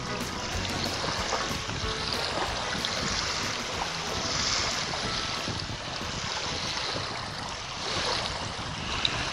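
A scale RC model schooner sails on ocean waves, with steady wash of water and gusty wind buffeting close to the microphone throughout.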